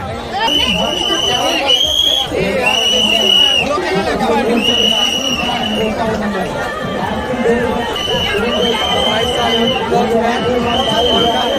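A loud, continuous hubbub of many voices fills a crowded Shiva temple, with chatter all around and repeated high tonal cries or whistles cutting through the babble.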